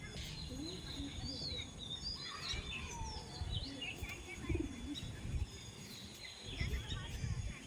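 Low, soft pigeon coos repeat through the clip, with higher chirps from other birds and people talking nearby.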